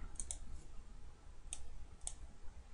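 Several soft, isolated computer mouse clicks, a close pair near the start and two more spaced out later, quiet over a low steady room hum with no talking.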